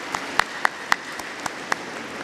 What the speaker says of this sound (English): So a huge round of applause for all of you.